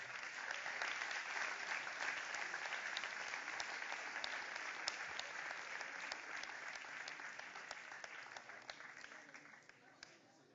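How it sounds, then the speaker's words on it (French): An awards-ceremony audience applauds steadily, a dense even patter of many hands clapping that slowly fades toward the end, heard from within the hall with no voices over it. "On peut l'applaudir bien fort."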